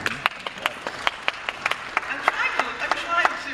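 An audience at a lecture on the Free Speech Movement claps in scattered, uneven bursts that thicken toward the end, with voices audible among the claps.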